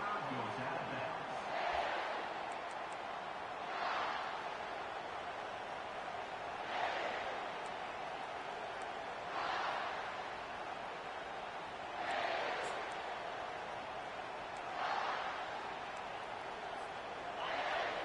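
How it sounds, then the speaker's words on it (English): A distant college football stadium crowd at a Florida vs South Carolina game roars in repeated swells every few seconds, a faint steady hum of noise rising and falling. "This crowd trying to make life miserable for this offense."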